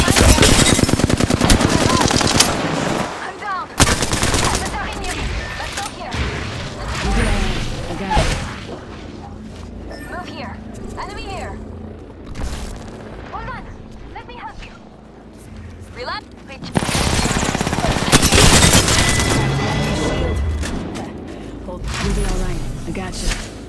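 Rapid bursts of video game gunfire, loud and close, with bright cracks clustered at the start and again late, under frequent team voice chat.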